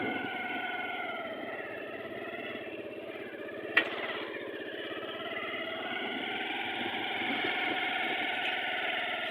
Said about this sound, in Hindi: दूसरे हाथ से मैं मोटरसाइकिल चला रहा हूँ